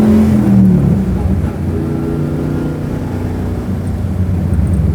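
Pro street 1967 Chevy Nova revving hard, a loud, close, rumbling engine roar with a dip and recovery midway and a brief pop as the throttle eases.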